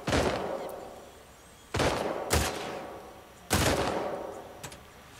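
Three separate gunshots fired at a stationary target in The Last of Us Part II, each a sharp loud crack with a long reverberant tail, spaced roughly two seconds apart.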